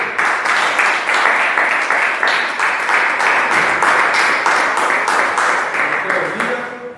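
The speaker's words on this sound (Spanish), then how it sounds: "Démosle un aplauso al Señor." A congregation applauds at a church service, dense steady clapping with shouts and voices mixed in throughout, fading toward the end.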